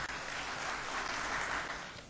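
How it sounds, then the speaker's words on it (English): Conference audience clapping: a steady, moderate wash of applause from a crowd in a hall, continuous for a couple of seconds with no voices over it. "Please give him a big round of applause."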